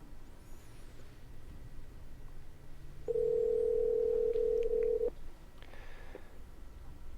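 A steady telephone tone sounds for about two seconds, loud and unbroken, as a call-in line is dialed, with faint background hiss and no talk.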